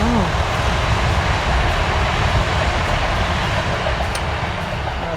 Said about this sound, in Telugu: సో మీరు చూసిన ట్రైన్ ఓవర్ గ్రౌండ్ ట్రైన్